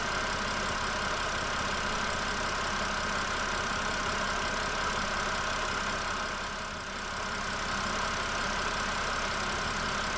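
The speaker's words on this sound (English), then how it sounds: "So this is the noise I'm getting at right now on idle." A car engine idling before a Liqui Moly MoS2 oil additive is added, a steady, loud mechanical drone with a constant ticking, knocking character that holds unchanged for the whole stretch, heard close with no talking.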